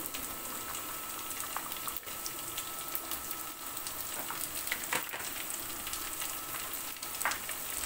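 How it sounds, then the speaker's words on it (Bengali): Whole onions, whole garlic cloves and chopped garlic frying in oil in a wok, giving a steady, close sizzle with soft crackles and occasional stirring scrapes, with no voices. "গোটা পেঁয়াজ রসুন আর কুচি রসুন একসঙ্গে হচ্ছে নেড়ে চেড়ে আমি ব্রাউন করে নেব"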